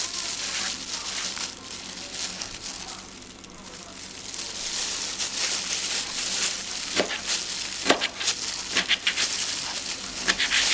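Chopped kimchi stir-fries in a heated frying pan, giving a dense, steady sizzle with scattered crackles and scraping stir sounds that run throughout at close range.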